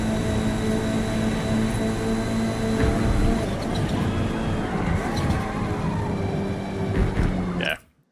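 Touring car in the Forza Motorsport video game running flat out on medium tyres, a steady loud engine drone with shifting tone, close and continuous, cutting off abruptly at the end.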